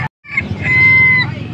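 Chickens with chicks, a short burst of clucking and a drawn-out crowing call, close and loud after a brief gap.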